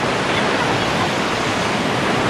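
River water rushing near a waterfall, a steady, loud, broadband roar of flowing water that stays unchanged throughout with no pauses.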